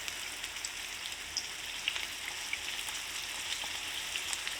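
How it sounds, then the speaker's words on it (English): Steady, quiet sizzle of food frying in oil, with soft crackles and pops scattered over a constant hiss. "So I'm going to start by frying some of my fritters."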